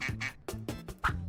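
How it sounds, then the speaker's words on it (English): A duck quacks five times in a quick, uneven series, loud and close, with no talk. "It's a duck."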